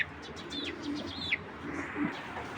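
Racing pigeons coo in soft, repeated low calls, with a few sharper chirps and tweets overhead, all fairly faint against a steady background hiss.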